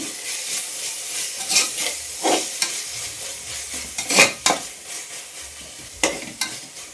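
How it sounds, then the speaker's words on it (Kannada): A little masala for bagara rice frying and being stirred in a pan, with loud, close sizzling and sharp spatula scrapes at irregular intervals, no talking. "ಸ್ವಲ್ಪ ಫ್ರೈ ಆಗಲಿ."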